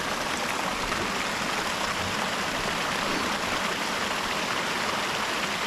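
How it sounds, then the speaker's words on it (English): A forest creek draining mountain lakes rushes over rocks in a steady, broad, loud hiss of flowing water, continuous and unchanging with no voices. "Yeah, I'm thinking this is the creek."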